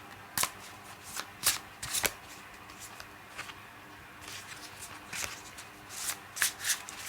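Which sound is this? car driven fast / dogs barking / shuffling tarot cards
shuffling tarot cards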